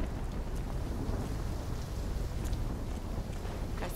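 A thunderstorm with steady heavy rain, from the Call of Duty Black Ops 3 campaign mission In Darkness: a dense, continuous roar of downpour and rumbling that stays loud and even throughout, with no voices.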